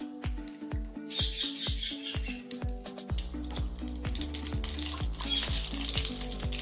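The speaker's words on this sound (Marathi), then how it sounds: "तेल आपलं गरम झालंय मोहरी टाकू त्यात" Mustard seeds pop and crackle steadily in hot oil, a dense run of sharp near snaps over a continuous sizzle.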